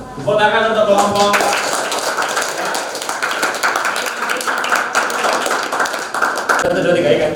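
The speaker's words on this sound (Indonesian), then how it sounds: "Tepuk tangan untuk kelompok." A small classroom audience claps for a student presentation group, a busy patter of hands lasting several seconds with voices at the start and end.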